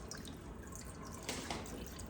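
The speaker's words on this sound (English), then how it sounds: "Pour it all the way out." Liquid splashes and drips briefly as a can is poured out into a container, fairly quiet, with a slightly louder pour near the middle.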